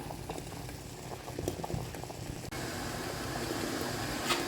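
Three eggs boil in salted water in a pot, giving a steady, dense bubbling and rolling simmer that carries on evenly with no talking.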